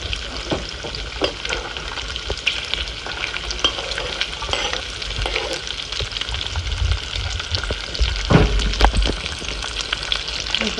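Onions fry in a pan for a dish of fried eggs with saucisson, crackling and sizzling continuously while a utensil stirs with scattered scrapes and knocks, with no speech.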